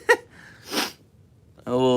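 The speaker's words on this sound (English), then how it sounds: "oh gosh, I might even sneeze" A single sharp sneeze bursts out near the mic, followed by a breathy exhale and then a brief voiced sound.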